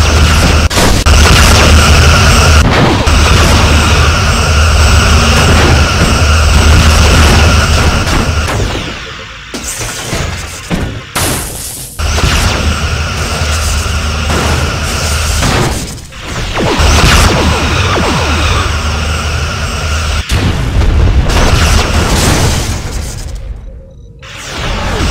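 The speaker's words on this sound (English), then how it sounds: "Evading incoming torpedoes." Torpedo impacts against a starship in the Bridge Commander space combat game, heavy booming blasts and rumbling thuds loud over a dense sci-fi ambience, with several bursts and brief dropouts between them.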